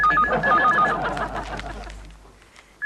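A telephone rings in a Hindi sitcom scene, a loud repeating warbling tone that fades out and then cuts off sharply near the end.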